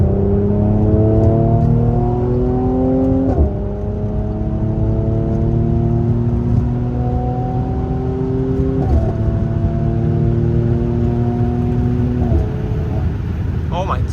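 A Mercedes-AMG C43 W205 engine accelerating hard on a late-night drive, heard from inside as a loud droning note that climbs steadily through the gears, with sharp drops at each of several upshifts.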